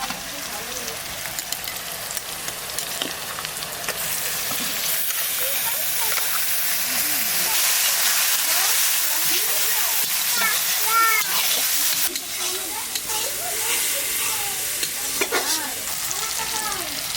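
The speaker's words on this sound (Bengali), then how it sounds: "রসুন দিয়ে আর একটু কষালাম।" Garlic and onion frying and being stirred in a pan, with a steady close sizzle and hiss punctuated by repeated scraping stirs throughout, as a voice speaks intermittently over the cooking.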